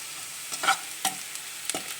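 Mixed vegetables with garlic frying in oil, a soft steady sizzle broken by several brief scraping clatters as a spoon stirs the pan, fairly quiet and close, without speech.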